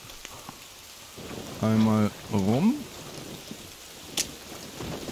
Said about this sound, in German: Es gewittert.